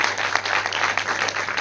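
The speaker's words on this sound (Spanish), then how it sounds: "Dale fuerte el aplauso al Señor." A Spanish-speaking church congregation bursts into dense, sustained applause during a sermon, a brief, steady roar of many hands clapping together.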